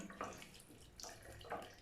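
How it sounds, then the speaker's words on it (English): Tap water running faintly over eyeshadow makeup brushes at a sink, a soft, steady wash broken by a few brief splashy surges when the brushes move through the stream. "They run water through all of them"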